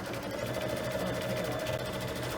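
A sewing machine quilts a cake block for a pillow, its steady, rapid mechanical hum running continuously and close at an even loudness throughout.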